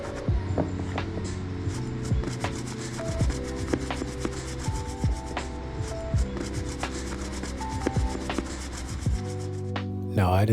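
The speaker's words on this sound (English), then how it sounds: "you want to get your dry erase kit and brush it out to make sure the suede is soft" A brush scrubs dried suede sneakers in steady back-and-forth strokes, a close rasping rub that repeats evenly, with a low hum in the background and no talking.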